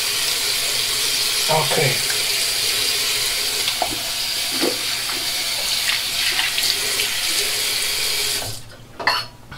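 A razor rinsed under a running tap, with a steady close rush of water and a few light knocks against the sink. Someone speaks briefly near the end as the water stops.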